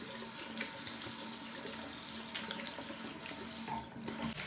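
Tap water runs steadily into a sink as a face is rinsed clean of foam cleanser, a continuous close splashing hiss with small shifts in flow and no voices.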